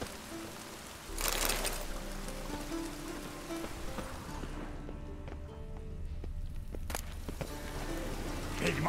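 Steady rain patters across the surface in The Witcher 3 video game, a continuous wash of drops with a louder burst early on and a few sharp ticks, running throughout with no talking.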